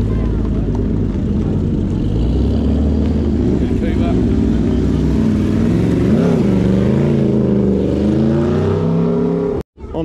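A turbocharged Mark 4 Toyota Supra with a hood scoop revs and pulls away from a car and bike night, its deep rumble rising and falling in pitch as it accelerates, loud and close.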